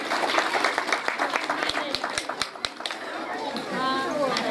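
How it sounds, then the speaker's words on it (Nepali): Audience at a championship grand finale event applauding, steady clapping from a crowd with chatter and a few sharper claps standing out, moderately loud and close. "ल है जोरदार ताली है।"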